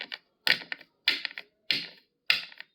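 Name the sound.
crushing and grinding cinnabar (sigraf)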